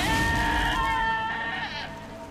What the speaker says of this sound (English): Hi, sheepy sheep sheep.